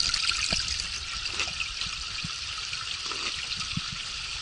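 Steady trickling of fresh mountain water in the High Tatras with a constant broad hiss, close by, with a few faint low knocks scattered through and no voices.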